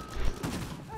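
Gunfire crackles in an online Uncharted 4 multiplayer match, a rapid burst of shots with dense noisy bursts, fairly loud and close over steady game ambience.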